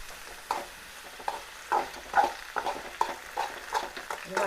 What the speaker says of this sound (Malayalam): ഈ പഴം പൊരിക്കുന്ന ചൂട് അവിടെ അങ്ങനെ അടിക്കുന്ന മൂത്ത് വെളിച്ചെണ്ണ തെറിക്കുന്നുണ്ട് കേട്ടോ.